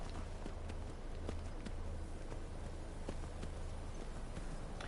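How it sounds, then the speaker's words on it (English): Horse hooves galloping in the video game Skyrim, a steady rapid clip-clop of hoofbeats over a constant loud bed of ambient game sound, continuous throughout. "I'm gonna go by horse."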